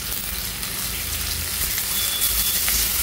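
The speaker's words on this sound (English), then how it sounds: "Once the tempering sizzles" Steady, dense crackling sizzle of spices tempering in hot oil, constant and close, with no voices.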